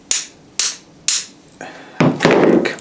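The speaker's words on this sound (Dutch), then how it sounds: "Kijk, en nou sla je met de hamer hier op" A hammer strikes a window hinge pin three times in a steady rhythm, each hit a sharp, close metallic tap, followed by a rougher, louder scraping knock.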